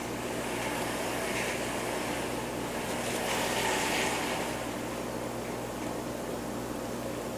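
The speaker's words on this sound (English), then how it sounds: "someone's outside washing the garage door with a water hose" A water hose sprays against a garage door outside, a continuous broad hiss of rushing water that holds steady without pause, moderately loud and muffled, heard from indoors with no talking.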